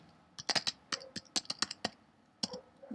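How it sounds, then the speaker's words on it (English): Keys clack on a computer keyboard as a street address is typed in, a quick irregular run of sharp clicks in bursts with short pauses, close and fairly quiet, with no talking. "I'm going to type in or paste in the address"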